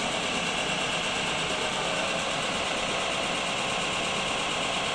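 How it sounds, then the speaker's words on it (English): An electric motor in a BMW E39 EV conversion spins a drive flange with no engine attached, a steady, continuous mechanical whir, loud and close, with a constant droning hum and no voices. "Just to see that drive flange there spinning without an engine attached to it"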